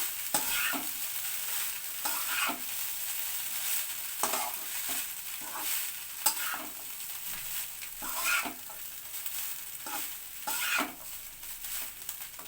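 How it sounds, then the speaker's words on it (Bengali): Jeera rice being stirred in a hot pan after sugar is added, with repeated scraping strokes of a spoon against the pan over a soft steady sizzle, close and moderately loud, no talking. "চিনি দিচ্ছি, একবার নাড়াচাড়া করে নেব।"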